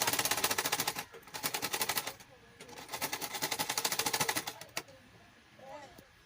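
Sewing machine stitching the shoulder seams of a pinafore flare gown, rapid mechanical chattering in several bursts separated by short pauses, fairly close, with a faint voice in the background.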